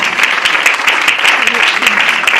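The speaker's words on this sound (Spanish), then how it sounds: "Démosle un aplauso." A church congregation applauds steadily in a dense, continuous wash of clapping during a sermon. The clapping is loud and sustained, and voices are faintly mixed in.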